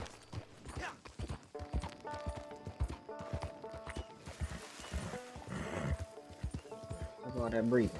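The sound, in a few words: horse running in Red Dead Redemption 2 video game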